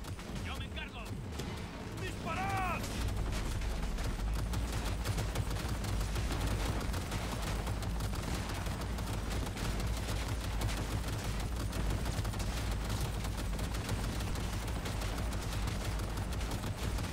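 Sustained gunfire and explosive bursts from a Cyberpunk 2077 firefight roar continuously and loudly for the whole stretch, with a few brief electronic chirps near the start.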